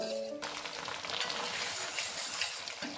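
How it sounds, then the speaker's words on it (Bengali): Schezwan sauce sizzles and crackles steadily in hot oil as it is stirred for a Schezwan fish dish, a dense, continuous frying hiss with a brief clink of the utensil near the start. "সিজওয়ান সস দেব। এটাকেও আমি কিছুক্ষণ তেলে নাড়াচাড়া করে নেব।"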